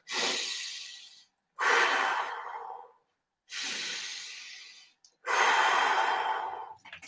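Four deep, loud breaths during a hand-pulling exercise, each a long airy inhale or exhale of a second or more, separated by short pauses, close to the mic.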